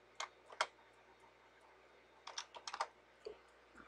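Typing on a computer keyboard while working in a Solaris user manager: short clusters of crisp key clicks separated by pauses, fairly close and quiet, with no talking.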